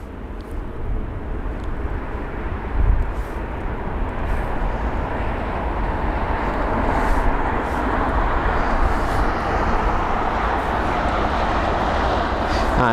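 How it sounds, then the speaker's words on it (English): A United Boeing 787-9 Dreamliner arriving at Heathrow from San Francisco makes a steady, broad jet roar that holds at an even level throughout, distant but continuous. "UA930, the United 7879 Dreamliner up next from San Francisco."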